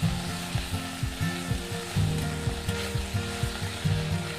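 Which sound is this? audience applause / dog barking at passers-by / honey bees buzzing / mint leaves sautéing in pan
mint leaves sautéing in pan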